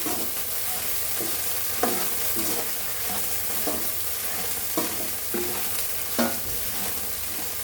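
Curry leaves roasting in a pan with a little oil for a spice powder, with regular spatula stirring strokes over a constant soft crackling sizzle, close and without talk.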